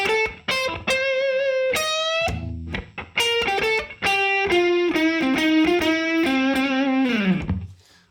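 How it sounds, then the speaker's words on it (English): Distorted electric guitar plays a blues shuffle lick, with bent sustained notes and quick phrases, loud and alone with no talking. "let's go ahead and start out with lick number 1."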